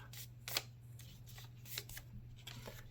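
A sheet of paper for a paper airplane is flipped over and folded in half, making quiet crisp rustles and soft creasing swipes that come in several short bursts over a low hum.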